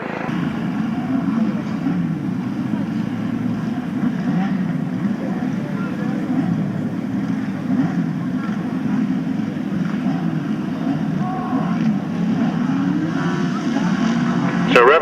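Grasstrack racing motorcycles at a British Masters qualifier rev in a dense, continuous engine roar, several machines droning together at a steady loud level.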